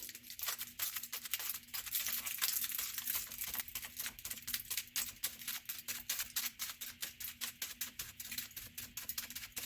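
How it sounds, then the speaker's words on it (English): Tin foil crumpled by hand in an acrylic painting studio, a close, quiet run of crinkling and rustling bursts with no talking. "I'm going to take some tin foil and crumple it"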